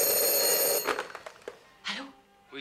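A wired telephone rings in a film scene, a loud, sustained bell burst that stops abruptly, followed by brief handling knocks and a voice starting to speak.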